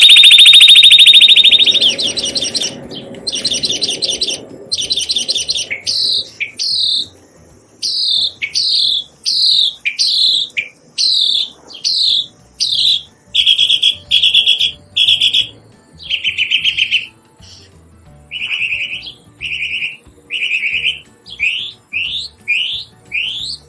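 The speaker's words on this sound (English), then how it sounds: "Bird number 17, northern mockingbird." A northern mockingbird sings loud and close, a long run of repeated bright whistled phrases and chirps delivered in rapid bursts separated by short pauses, alone without talk.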